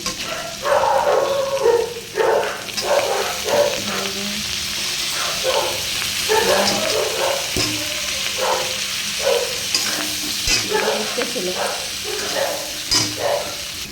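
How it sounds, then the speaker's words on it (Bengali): Fish frying in hot oil with garlic and green chili: a loud, steady sizzle crackles without a break, joined now and then by the faint clatter of a utensil. "মাছের ভাজা বসিয়েছি সাইডে করে রেখেছি রেখে রসুন আর কাঁচা লঙ্কা দিয়ে দিলাম তেলে"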